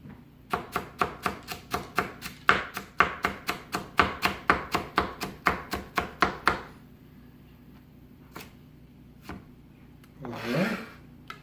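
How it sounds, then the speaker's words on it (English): Peeled vegetables sliced into thin strips with a knife on a board: about twenty crisp, evenly spaced cuts in a quick rhythm, then a few scattered taps and a brief soft rustle. "And these I'd like to just slice nice and thin."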